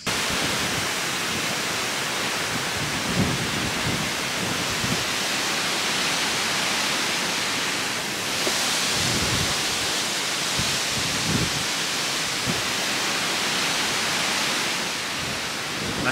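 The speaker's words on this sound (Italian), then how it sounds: "La situazione qui sta degenerando, sta arrivando una tempesta" A storm rolling in over the Mantova–Peschiera cycle path, with a steady broadband wash of rain or wind noise lasting throughout and low rumbling swells that may be distant thunder, heard alone without talk.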